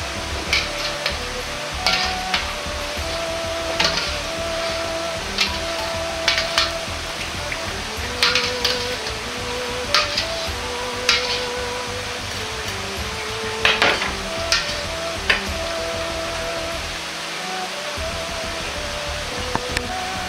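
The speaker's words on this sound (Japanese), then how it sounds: "肉が固まらないように箸で混ぜてから取り出します。" Steady bubbling and simmering water with repeated light clinks and scraping taps of chopsticks stirring chicken pieces in a pot of hot water, continuing throughout with no talk.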